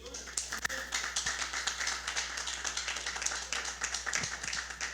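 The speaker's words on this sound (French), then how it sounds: "m'a demandé applaudissements pour un petit booster" Scattered, fairly quiet clapping from a small gathering at a community debate, irregular taps over a low steady hum, with some faint background voices.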